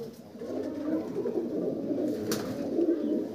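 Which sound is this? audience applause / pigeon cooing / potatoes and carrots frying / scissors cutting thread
pigeon cooing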